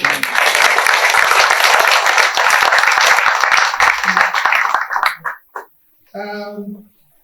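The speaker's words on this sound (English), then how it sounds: "You can applause for him, please." At a book launch, an audience gives a loud, sustained burst of applause that stops abruptly after about five seconds, followed by a short spoken phrase.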